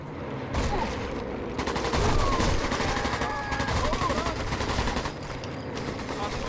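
Machine gun fire in the Sniper Elite 4 campaign on San Celini island crackles in rapid sustained bursts, loud and dense, with a brief pause between them.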